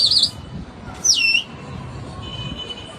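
Domestic pigeons in a rooftop pigeon loft in Ain Shams give two short bursts of high chirping calls, one at the start and one about a second later, over steady low outdoor rumble.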